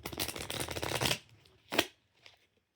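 A deck of playing cards is shuffled up close: a long riffling flurry, then a short snap and a faint final tap.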